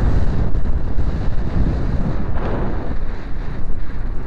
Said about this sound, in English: It's picking up a fair bit of wind now